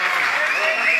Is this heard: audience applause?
yes